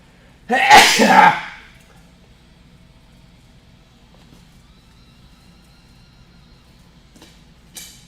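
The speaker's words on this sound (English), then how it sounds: "We're gonna sneeze." A single loud sneeze close by, bursting out then quickly fading, followed by several seconds of quiet room tone and a faint click near the end.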